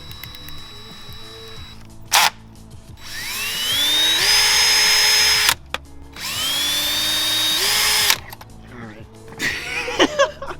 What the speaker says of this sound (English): So we're making our own holes here.